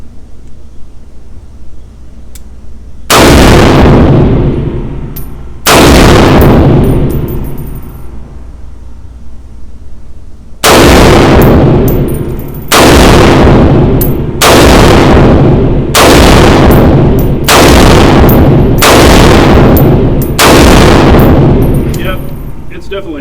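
A POF-USA Rogue pistol fires at an outdoor range during a function test: eight loud, close shots, each with a long ringing decay, two spaced early and six in a quicker steady string.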